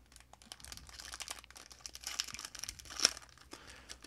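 Plastic packaging crinkles and tears open close up in a quiet room, a continuous dry rustle with a louder crackle near the end.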